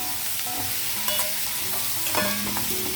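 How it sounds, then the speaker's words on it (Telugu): Broad beans frying in oil in a pan, a continuous sizzle with occasional stirring scrapes and clinks, close and alone with no voices. "కొంచెం ఇలా వేగితే చాలు. మనం చిక్కుడుకాయలు యాడ్ చేసేద్దాం ఇందులో."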